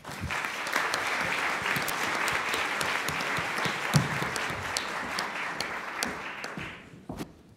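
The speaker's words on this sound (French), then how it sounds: "Eh bien, ça sera Pierre-Louis, qu'on applaudit très fort." Loud, sustained applause fills the hall at the final of a French eloquence contest. Dense clapping with scattered crisp individual claps runs for several seconds, then thins out and fades near the end.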